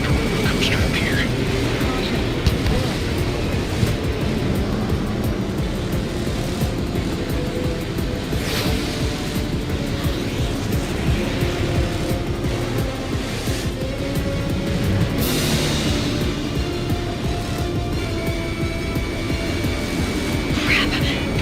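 Steady roar of a jet fighter engine in Ace Combat 7, a loud, constant broadband rush that holds the whole time with brief brighter swells, while voices talk over it.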